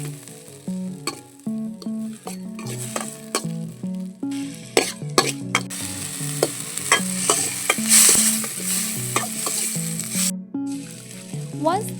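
Chopped tomatoes and green chilies fry in a pan, a continuous sizzle with repeated stirring clatter, all under tuneful background music.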